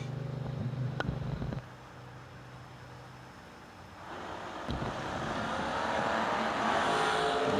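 Drag racing cars, a Malibu and an S10, at a racetrack, heard as a low engine rumble that drops away, then a broader, louder roar building and holding as the cars run, with a sharp burst near the middle.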